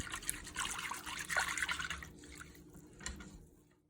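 Broccoli cheddar soup simmers in a pot on the stove over medium to medium-low heat, giving off soft, steady bubbling and liquid pops that fade toward the end.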